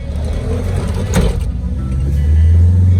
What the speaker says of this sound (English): The bus we're taking, it's not a real bus. It's like a mini bus.